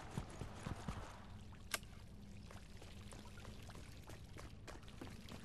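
Steady running water pours continuously from a faucet in the video game Fortnite at low level, with a few faint taps and clicks early on and no talking.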